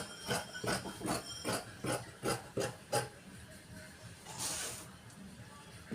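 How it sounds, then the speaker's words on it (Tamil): Scissors cut churidar pant fabric in a steady run of about eight soft, rhythmic snips, close and fairly quiet, followed by a brief rustle of the cloth. "அழகாக வெட்ட போகிறோம் வெட்டுவதே எல்லோரும் கவனமாக பாருங்கள்"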